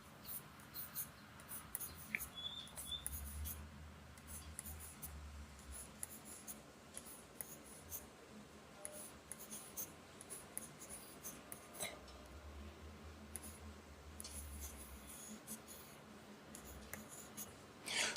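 A pen or marker drawing candlestick shapes on a weekly forex chart gives soft, scratchy strokes in bursts with short pauses between them, close and quiet, and nobody speaks.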